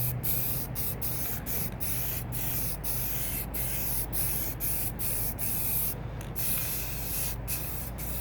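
Continuous hiss of a spray paint can misting blue paint onto a cloud artwork from about two feet away, loud and close, broken by a dozen brief pauses as the nozzle is released and pressed again.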